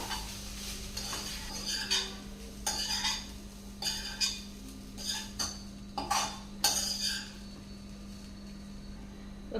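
A spoon scrapes and clinks against a pan as cooked rice is tossed and mixed with soya chunks for a lunchbox dish, in steady repeated strokes over a low constant hum, with no talking.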